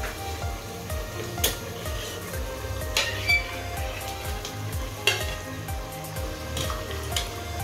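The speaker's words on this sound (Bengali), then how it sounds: "এই যে সবজিটাকে এখন কষিয়ে নিলাম, এখন মাছটা দিয়ে দিচ্ছি" Fish going into a pan of sautéed vegetables, with a moderate sizzle and repeated rhythmic scraping of a spatula stirring, plus occasional sharp clinks against the pan.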